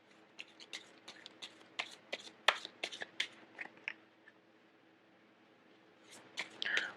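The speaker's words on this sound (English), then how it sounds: "let me pull out the rest of the cards" Tarot cards slid out of a deck and handled on a table during a reading, giving a run of soft, quick papery flicks and snaps close by, easing off briefly and then picking up again.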